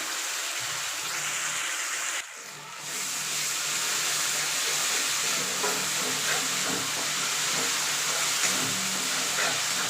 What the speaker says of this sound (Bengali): মশলাটা দিয়ে দিয়েছি, দিয়ে নাড়াচাড়া করব, মানে সাঁতলাবো।